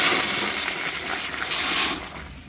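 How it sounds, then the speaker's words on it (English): A 2023 Project Source Pro-Flush Eco pressure assist toilet, using 0.8 gallons per flush, gives one loud, steady rushing flush of water that holds strong for about two seconds, then tapers slightly as it drains. "And here is the first flush of the 2023 Project Source Eco."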